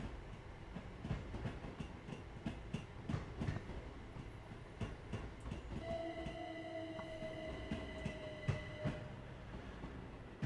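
Freight train rolling past in the Train Sim World 4 simulator, with a steady rumble and rhythmic wheel clicks over rail joints, plus a long sustained horn-like tone midway, loud and close with no talk.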